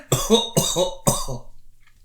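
One person coughs three times in quick succession, close and loud, the bursts evenly spaced and followed by quiet.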